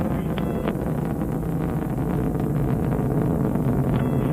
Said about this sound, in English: the solid rocket motors are increasing their thrust during their 75-second burn